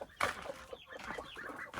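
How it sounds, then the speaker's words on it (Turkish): Chickens on a small Turkish farm cluck and chatter close by, a quick sharp squawk followed by soft, fussy clucks over faint background noise. "En küçük tavuğumuz."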